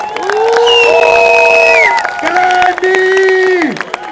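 A crowd at a motocross event with riders Tony Cairoli and Matteo Bonini present cheers and applauds loudly, with whoops and shouts, while a presenter speaks over the noise through a loudspeaker.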